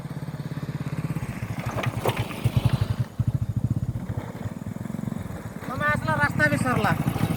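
A motorcycle engine chugs in fast, even pulses on a narrow single-lane rural road at Birighati, close and steady with a brief dip, while people talk over it.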